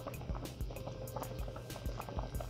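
Port wine is poured into a slurry of water and cornstarch, with soft liquid trickling and splashing at a low level and a few small drips and clinks throughout. No one speaks.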